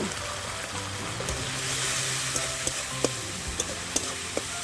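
Tomatoes with turmeric and a little water cooking in a pan in a village-style kitchen, giving a steady soft sizzle and bubbling hiss with a few light clinks near the end.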